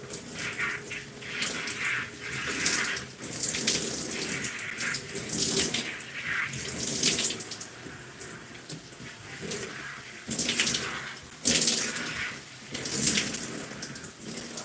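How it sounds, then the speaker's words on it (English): Water runs and splashes while conditioner is rinsed out of hair, a close, rushing flow that swells and drops in irregular bursts as it strikes hair and a surface, with no talk over it. "So we're rinsing out this conditioner."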